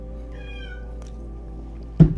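A cat meows near an office door, a single drawn-out call with falling pitch over steady low room hum, then a short louder bump near the end.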